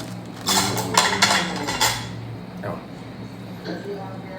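A spoon clinks and scrapes against a small bowl of yen ta fo noodle soup, several quick clatters close by, then quieter taps, with a person talking through it.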